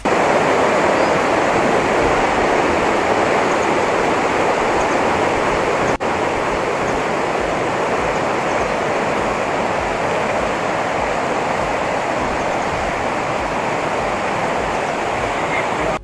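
A fast-flowing river rushes steadily beneath a makeshift wooden bridge in a Kashmir forest, a constant loud broadband roar of water with no pauses.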